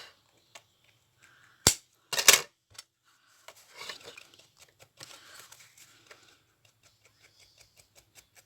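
Paper being trimmed for an art journal page, heard as a few sharp, close snips and crisp rustles, with two loud cuts early on followed by softer scattered crinkling and handling noises.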